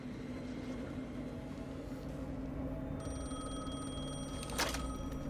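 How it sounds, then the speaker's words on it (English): A telephone rings in the video game Alan Wake 2, a repeated electronic ring that enters midway and plays over a steady low ambient drone and background hum, with no one speaking. "The phone again."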